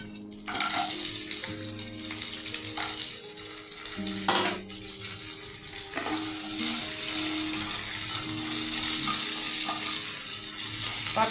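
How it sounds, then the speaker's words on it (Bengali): Crab pieces coated in turmeric and salt frying in hot oil in a pan, a steady loud sizzle with metal utensil clanks and stirring scrapes at intervals, no talking. "তেল দিয়ে এখন কাঁকড়াটা প্রথম ভেজে নিই। হলুদ লবণ মাখা কাঁকড়াটাকে ভেজে নেব।"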